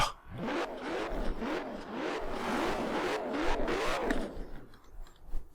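Koenigsegg Jesko hypercar engine in Forza Horizon 4 revs up sharply, loud and sustained with wavering pitch through several shifts, then fades out near the end.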